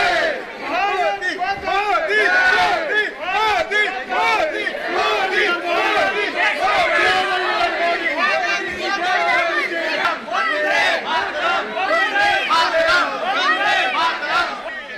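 A dense crowd cheers and chants loudly to greet Prime Minister Modi on his arrival in Papua New Guinea, with overlapping voices and shouts forming a steady roar throughout.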